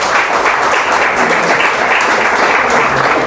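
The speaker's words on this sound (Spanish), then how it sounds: "Denle un fuerte aplauso a Jesús." Loud, sustained applause from a church congregation at an evangelical service, dense steady clapping filling the space without letup.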